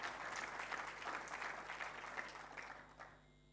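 Audience applause at a sports fund MoU signing ceremony, a steady wash of clapping from a large crowd that holds for about three seconds and then tapers off at the end.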